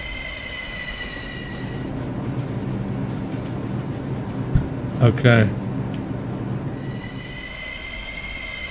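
A subway train runs in a Minecraft NYC subway build, with a steady rolling rumble and a high wheel squeal that fades in and out. A brief one-word remark is heard midway.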